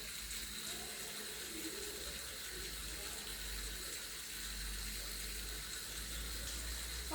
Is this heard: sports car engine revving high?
no